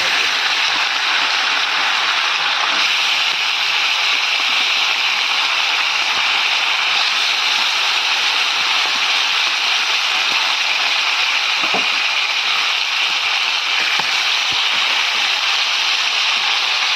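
Fish fry in smoking-hot oil in a wok, a loud, dense, unbroken hiss like heavy rain that holds steady for a long stretch, with faint clicks now and then.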